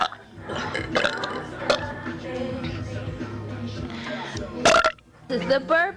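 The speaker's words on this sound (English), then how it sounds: "This is the burping song." A person burping loudly several times, deep croaking belches scattered among laughter and chatter from people nearby.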